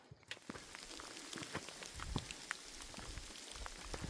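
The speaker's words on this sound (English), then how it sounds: "That is hail, by the way, falling down and bouncing off" Hail falls and bounces off surfaces on the trek toward Everest, a steady close patter of sharp individual ticks and taps continuing throughout with no talking.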